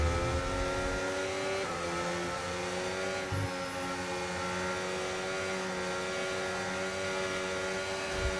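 Formula 1 race cars idle and rev steadily on a formation lap in the F1 25 video game, a continuous engine drone with several cars close together and no voices.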